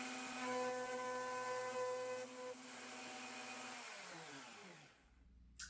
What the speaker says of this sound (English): now it's time to plow the center dovetail groove